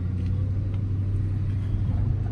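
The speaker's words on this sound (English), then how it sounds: "There's a car coming." A car on the road passes nearby, a continuous low engine and tyre rumble holding steady throughout with no voices.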